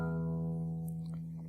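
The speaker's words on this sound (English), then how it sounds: "so let's play string 6. And it should sound like this." A single open low E sixth string on a guitar is plucked for tuning and rings out alone with a clear sustained tone, slowly fading.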